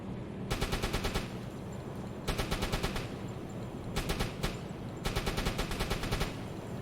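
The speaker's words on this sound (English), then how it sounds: "these machine gun bullets will be going right through" Machine-gun fire aimed at an unarmoured ship's hull in the submarine game UBOAT, coming as four loud sustained bursts of rapid rounds separated by short pauses.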